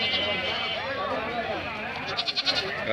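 Sheep and goats bleat amid steady crowd chatter at the busy Tumkur APMC livestock market, the animal calls mixed into a dense, continuous din.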